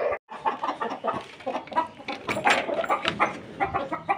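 Hens cluck in a rooftop hen house, several birds making close, busy, overlapping clucks and short calls throughout.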